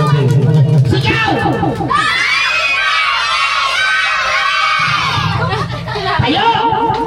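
Children at a seventh birthday party shout together in a loud, sustained burst of screaming and yelling, with crowd noise and an adult voice calling out before and after.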